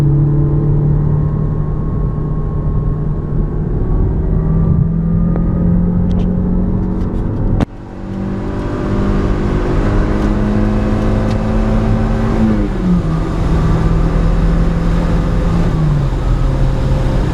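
A Toyota MR2 driving and accelerating, its engine droning loud and steady from inside the car, with rising revs that drop at gear changes and a brief dip midway.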